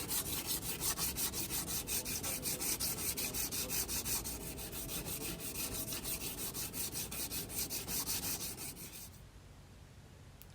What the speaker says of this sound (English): it was time to get out some 80 grit sandpaper and sand